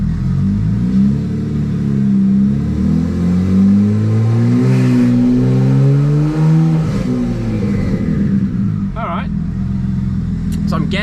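BMW N54 engine with a DCT transmission accelerating on a test drive, a loud steady engine drone rising and falling in pitch under ongoing talk.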